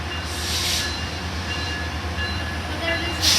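Amtrak and Metrolink trains meet at a station, giving a steady, moderately loud rumble of rail traffic with faint hissing bursts and soft background voices.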